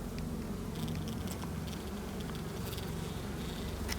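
Honey bees buzz steadily around an open hive frame taken from a hive whose colony had moved up into the supers, a dense, even drone held close and continuous throughout with no talk.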